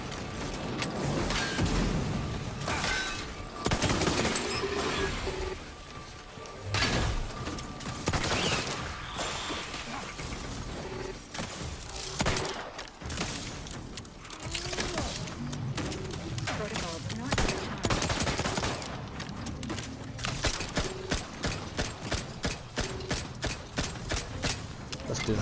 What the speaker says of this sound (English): If you hip fire it, this gun's mental.